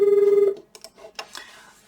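A telephone rings with a steady warbling trill during a cardiology lecture, then stops abruptly and gives way to a few faint clicks and handling noises.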